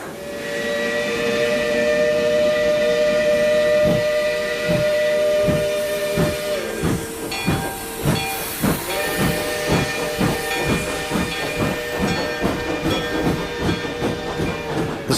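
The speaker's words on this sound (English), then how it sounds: "The special train sent by the railroad company made a swift, unbroken journey away from the land of coal, iron, clank, and roar" Steam train whistle sounds in long sustained tones over hissing steam, then rhythmic chuffing builds as the locomotive departs, loud and close, a railway effect in a Sherlock Holmes radio drama set in coal-and-iron country.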